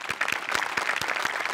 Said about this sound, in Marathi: तुमच्यासाठी एकदा जोरदार टाळ्या आमच्या सगळ्यांकडून